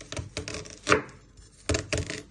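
A knife slices through a peeled onion on a board in a few crisp, uneven cuts, close and fairly quiet, with short pauses between strokes and no talking.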